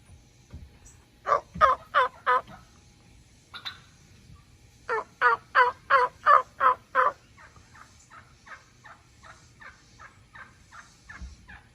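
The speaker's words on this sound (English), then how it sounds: "Look at that gobbler out there. Did you hear him talking?" A turkey gobbler out in a field gobbles in two bold bursts of rapid, rattling calls, followed by a softer string of fading gobble notes, moderately distant with no talking over it.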